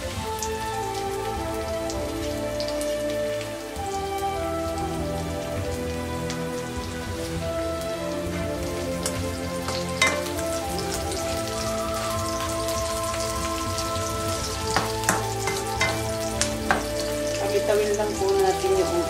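Onion sizzles steadily in hot oil in a pan for a tofu, luncheon meat and shrimp soup, a continuous crackling hiss with sharper pops toward the end and no talking.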